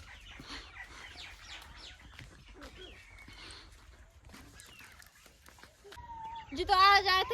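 Village chickens and roosters cluck and squawk near and far under people talking, with a rooster-like loud squawking burst near the end.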